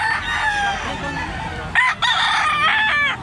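Kanawayon gamefowl roosters crowing in Tabunok, Cebu, two long, loud crows in close succession with some clucking and background chatter underneath.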